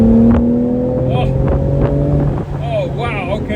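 BMW M4 Competition Convertible accelerating with its sport exhaust open, a steady rising engine drone with gear-like pitch shifts, close and fairly loud amid wind noise.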